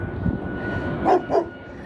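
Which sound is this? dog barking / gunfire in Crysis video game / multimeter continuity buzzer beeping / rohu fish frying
dog barking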